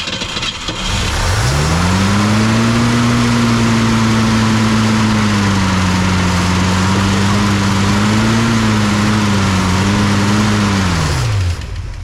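An abandoned 1964 Ford Fairlane, a Thunderbolt clone, cranks on its first start attempt after 29 years. A loud, steady mechanical drone holds for about ten seconds, wavering slightly in pitch, then cuts off.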